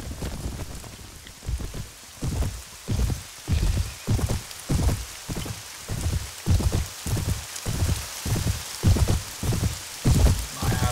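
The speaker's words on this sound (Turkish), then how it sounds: "Yağmurlu bir günde." Steady rain patters down in the video game Mount & Blade, with a rhythmic pulsing thump repeating every half second or so, like a looping ambient track with no voices.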